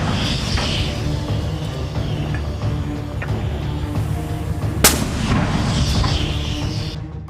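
Artillery fire during fighting between Hamas and Israeli forces in Gaza: a dense, continuous low rumble of distant booms, with one sharp, loud crack standing out partway through.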